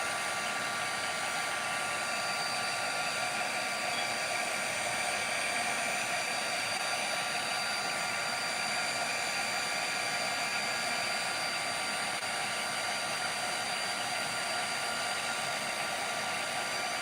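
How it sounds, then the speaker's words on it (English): Heat gun heat embossing a Valentine's Day card: a continuous steady fan-and-blower whoosh with a high whine, unbroken and even in level from start to finish, no voices. "And you're just gonna heat emboss it."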